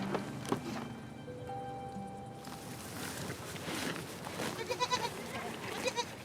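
Goats in the desert mountains of Oman, with a few short bleats among shuffling and soft ambient noise, moderately close and fairly quiet throughout.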